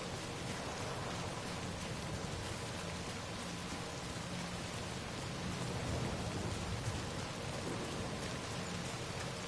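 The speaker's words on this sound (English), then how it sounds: "Damn, this game rainy as fuck." Heavy rain in the video game Death Stranding pours in a dense, steady hiss with a low rumble like distant thunder, continuous and fairly close, with no talking.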